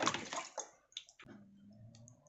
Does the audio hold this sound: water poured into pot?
yes